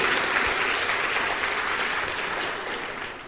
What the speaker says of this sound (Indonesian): beri tepuk tangan yang paling meriah untuk Bapak Yahweh